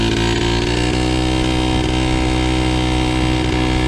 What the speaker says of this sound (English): this bike is so loud